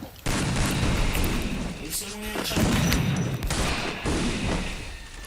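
Rapid bursts of gunfire in a 2v2 or 4v4 custom PvP video game match, loud and continuous with booming shots, heard under excited player voices talking over the action.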